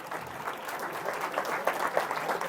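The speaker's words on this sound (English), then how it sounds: "they clap more" Applause from a seminar crowd in a university hall, a steady, fairly soft patter of many hands clapping at a distance.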